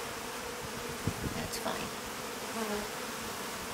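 Faint bees and a fly buzz close by with a high hum, the fly zipping past, under a brief spoken remark.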